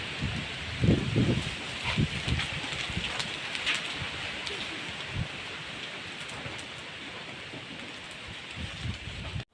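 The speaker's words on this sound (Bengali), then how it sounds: "অলরেডি ফোটা ফোটা বৃষ্টি পড়ছে" Light rain falling outdoors over a paddy-boiling area, a steady patter with occasional louder drops and dull thumps close by.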